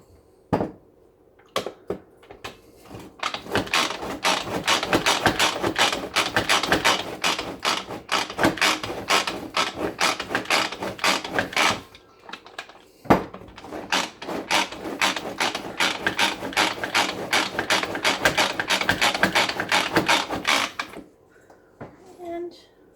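Pampered Chef manual hand-cranked food processor chopping lemonade salsa ingredients, a rapid run of ratcheting clicks and blade clatter in two long bursts, loud and close, with a short pause between.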